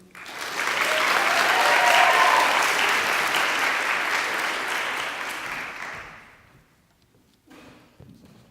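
Audience applauds loudly to welcome a senior student speaker at a school event, a steady dense roar of clapping lasting about six seconds before fading out, with a few faint thumps afterward.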